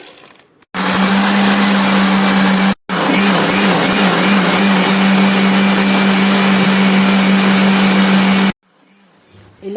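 A kitchen mixer grinder blends beetroot and carrot pieces with lemon juice, honey and water, whirring loudly in two long runs split by a short pause, with a steady motor hum and quiet gaps before and after.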